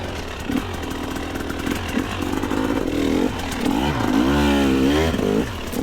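A dirt bike engine revs hard on a trail hill climb, a loud, continuous buzzing roar that rises and falls with the throttle, surging in pitch near the end, with no talk over it.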